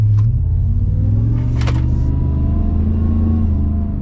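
A supercharged 2025 Ford F-150 Black Widow pickup drives along with a loud, steady low engine rumble and rising drone heard from inside the cab, with a couple of brief faint noises over it.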